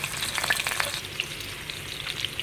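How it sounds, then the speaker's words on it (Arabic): Rabbit pieces fry in hot ghee mixed with oil, giving a continuous crackling sizzle with small pops and the occasional scrape of stirring, close and moderately loud with no voices. "هبتدي ان انا احمره"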